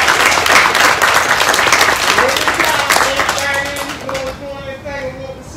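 Applause from a gathering at an apartment complex's health and wellness suite dedication, many hands clapping loudly and densely at first, then thinning and fading as voices begin to talk through the tail.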